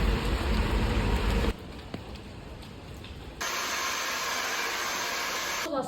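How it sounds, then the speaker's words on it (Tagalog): Heavy rain falls in a dense, hissing roar that drops to a softer patter midway and then swells back to a steady downpour, with no voices. "Naulan ngayon, ang lakas ng ulan."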